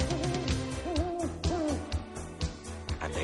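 An owl hooting in a haunted-house scene, three rounded, wavering hoots in quick succession over a dense, busy musical background, moderately loud.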